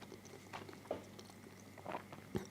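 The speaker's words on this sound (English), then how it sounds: "so you can probably hear me chewing" Someone chews food very close to a microphone, making soft, quiet bites and a few crunchy chomps spaced irregularly; no one talks.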